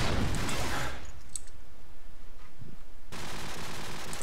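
Gunfire during a shooter video game tournament match: a loud burst of rapid shots at the start, a quieter stretch with faint distant pops, then renewed heavy firing, close and intense.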